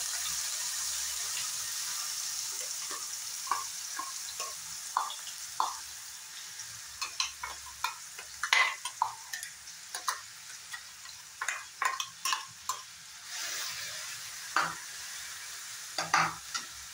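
Oil warming in a hot kadai on a gas flame for paneer paratha, with a steady faint hiss under a run of irregular light clinks and taps from utensils, no voices.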